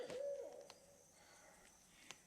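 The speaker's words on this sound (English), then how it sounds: "That owl is, he's making noise mighty early." An owl hoots early in the evening, with the sun still out, near a creek where trees are being cleared: one clear wavering hoot at the start, then faint background noise with a couple of soft clicks.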